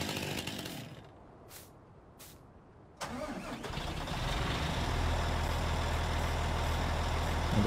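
A Scania 110 truck engine in Farming Simulator 19 revs up hard while hauling a forestry machine on a lowboy trailer, rising from a quiet idle into a loud, steady, sustained roar that holds to the end.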